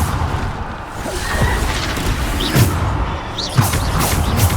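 Bombarda blasting spells in Hogwarts Legacy go off amid constant loud battle rumble, with a couple of heavy booming thumps standing out.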